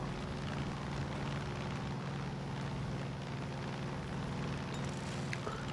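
Bombs dropped from an aircraft explode in Far Cry 5, heard as a continuous dense roar of blasts and engine rumble, loud and unbroken with no talk over it.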